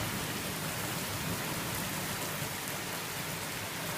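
Heavy monsoon-like rain with small hail pours down close by, a dense, even, steady roar with no breaks and no voices.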